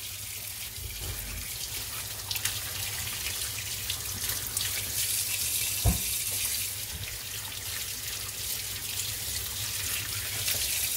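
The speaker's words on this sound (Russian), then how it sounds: "Сейчас мы их зальем холодной водой." Cold tap water runs from a kitchen faucet into a bowl of bones. A steady, close hiss of flow continues throughout, with a single brief knock partway through and no talk.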